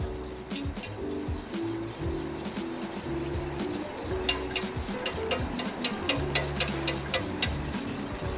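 A spoon stirs sauce into cream in a pan on the stove, and a low cooking murmur turns into quick, rhythmic scraping strokes in the second half.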